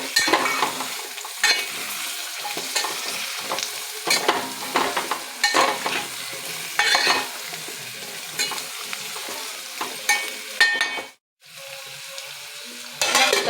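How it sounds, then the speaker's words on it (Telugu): Tomato drumstick curry is stirred in a pan, with a spoon scraping and clinking rhythmically over a continuous sizzle, close by, with one brief drop-out near the end. "ఒకసారి బాగా కలుపుకోవాలి"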